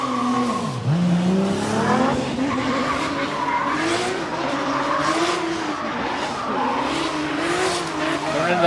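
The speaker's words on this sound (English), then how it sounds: "Pulling up to the line now, we have car number 318, Timmy Wu" A Toyota GR86 drift car on a qualifying run at Okuibuki Motorpark, Shiga, screams at high revs with constant tire squeal and skidding, loud and close throughout, while a commentator talks over it.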